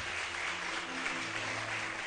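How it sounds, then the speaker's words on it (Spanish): A church congregation applauds continuously, a dense, steady clapping that fills the whole moment. "Dale un aplauso fuerte al Señor."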